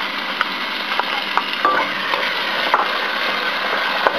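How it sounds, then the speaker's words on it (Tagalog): Garlic and tomato sizzle steadily in hot oil in a pan, with scattered clinks and scrapes of stirring over the constant frying hiss. "isosauté natin doon yung ating garlic"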